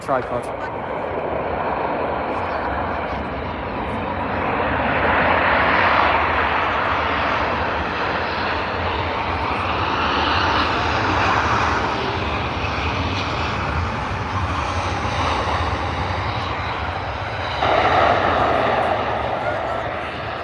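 Airbus A380 arrives at Manchester Airport, heard from a visitor park as a loud, sustained jet engine roar that swells and lingers through reverse thrust, with a person talking nearby.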